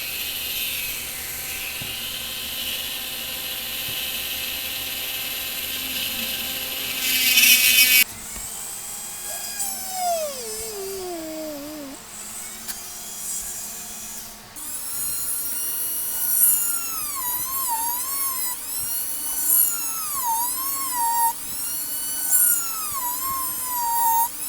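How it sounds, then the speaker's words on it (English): Guitar tuners are screwed into the headstock of a Wilkinson Modern T style guitar kit neck, giving squeaky gliding tones that rise and fall in repeated turns over a steady background hum and hiss. "start screwing the tuners into the headstock here."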